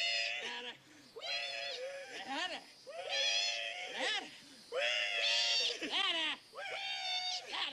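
A voice imitates a pig's squeal: loud, high, wavering squeals in several long bursts separated by brief breaks, close up.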